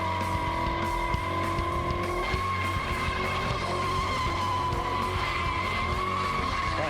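A car does a reverse burnout, tires skidding and squealing continuously over a loud revving engine, a sustained harsh screech with no voices.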